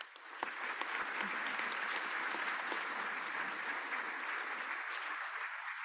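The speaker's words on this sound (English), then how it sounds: "could we stop before I do that and give everybody applause that has put all of this together?" Sustained applause from a large audience, dense steady clapping throughout that thins slightly toward the end, with no talking over it.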